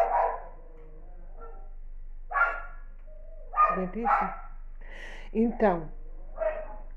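A neighbour's dog barks several times in scattered short bursts, moderately distant, while someone talks nearby.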